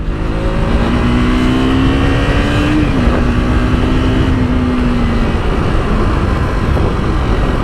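A 200 cc KTM RC 200 motorcycle from 2022 accelerates hard and close by, its engine note climbing and dipping through a gear change before holding a loud, steady drone.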